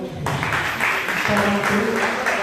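Audience applause at an arts collective's fifth anniversary celebration, welcoming senior female singer Ramapriya: dense, sustained clapping from a crowd that rises after a brief quiet start and carries on steadily throughout, with some voices mixed in.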